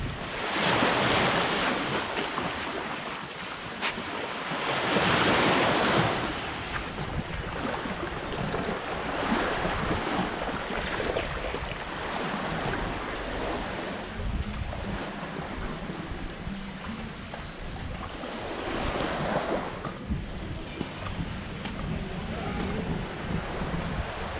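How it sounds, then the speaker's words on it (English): Gentle waves lap at the edge of the Mekong River while wind buffets the microphone, a steady broad wash with gusty swells rising and falling throughout, no voices. "now that we're in a quiet place, peaceful, beautiful, water's edge, Mekong"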